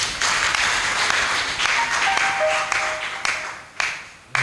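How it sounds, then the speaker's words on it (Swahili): A crowd at a live church gospel festival applauds, steady clapping that fades gradually with a few sharp claps near the end, no talk over it. "Naomba niwapigie makofi"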